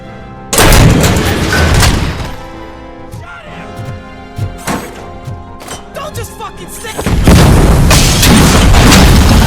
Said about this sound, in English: vaya bombazo